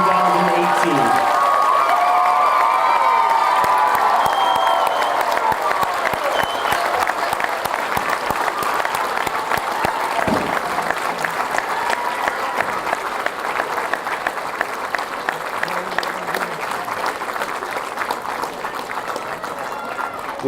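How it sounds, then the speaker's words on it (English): Sustained applause from the crowd in a high school gymnasium for the graduating class of 2018 fills the space, steady and full before slowly thinning, with some scattered cheering. "Please join me in one final round of applause for these graduates."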